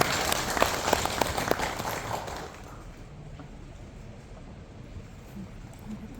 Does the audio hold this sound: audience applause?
yes